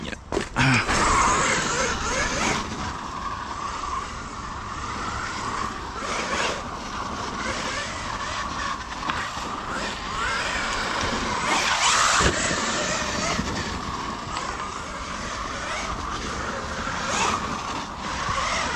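Losi Super Baja Rey RC truck tearing through a forest, its electric motor whining steadily at a loud, near level with rustling and scrabbling tyres over dirt and brush, a brief voice cutting in once.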